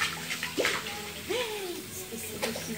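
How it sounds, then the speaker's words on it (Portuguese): Water runs from a tap into a bowl, a steady splashing trickle with hollow filling tones, while a person talks and other voices and household noises sound in the background. "encher a vasilha aqui de água e trocar a água"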